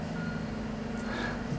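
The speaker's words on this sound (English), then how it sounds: "there's a dustbin if you can hear the beeping" Reversing beeps from a garbage truck sound steadily under a low engine rumble and street traffic, fairly distant and partly masked, with no talking.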